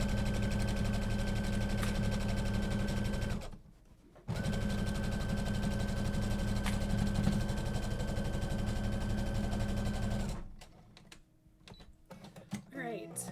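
A sewing machine stitches a curved seam on a tote bag lining, running in a steady, loud mechanical drone for several seconds. It pauses briefly, runs again at length, then stops, leaving quieter handling noises.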